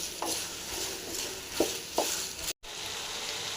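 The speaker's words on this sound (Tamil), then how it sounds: "நல்லா ஃப்ரை பண்ணிங்க." Ivy gourd (kovakkai) frying in a pan for a pickle gives a soft continuous sizzle broken by a few spoon scrapes and taps, then a momentary dropout before the sizzle resumes; no talk.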